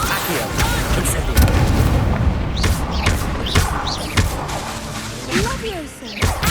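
Magic spell effects in Hogwarts Legacy, a busy run of booms, thuds and whooshing swishes firing in quick succession, loud and close, with voices shouting over the blasts.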